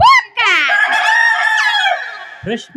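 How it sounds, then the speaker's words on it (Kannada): A rooster crows once, loud and close: a long, drawn-out, strained call with a rising start and a falling end, followed by a short cluck. "ಕೋಳಿ"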